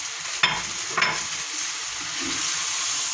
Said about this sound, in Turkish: Bu şekilde bir miktar bezelyemle sebzelerimizi şu şekilde karıştıralım.